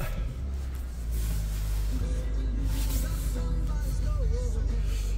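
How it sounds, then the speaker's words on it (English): A Kia Sportage engine fires up after a brief crank and settles into a low, steady idle, heard from close by with faint tonal whines over the rumble. "We'll fire the car up."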